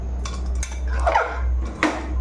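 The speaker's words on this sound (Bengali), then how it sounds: "সব মিক্স করে দেবো মশলার সঙ্গে।" Metal spoon scraping and clanking in a pressure cooker as goat fat is stirred together with spices, a few irregular close scrapes and knocks over a steady low hum.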